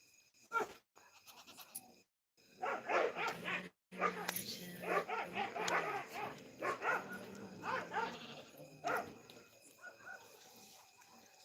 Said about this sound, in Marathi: बघा कुत्र आले कुत्र कोणाला तरी आले ते आमचे कुत्र